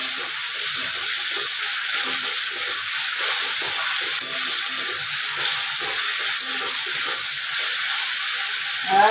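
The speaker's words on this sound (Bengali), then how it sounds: "মশলা দেওয়ার জলটা দিয়ে দিলাম।" Water is poured into spices cooking in a hot pan, producing a steady, loud hiss and sizzle that runs without a break for several seconds, close by and with no voices.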